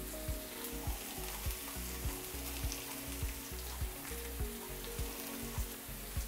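Garlic and red chili flakes sizzle in a frying pan, a dense, steady crackle with regular low clacks of stirring throughout.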